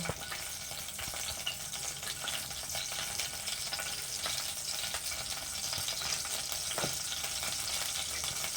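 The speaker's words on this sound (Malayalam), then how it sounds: "ഇനി ആ കടുകൊന്ന് പൊട്ടിട്ടോ കേട്ടോ." Mustard seeds crackle in hot oil in a home kitchen pan, a steady close sizzle with scattered sharp pops continuing throughout.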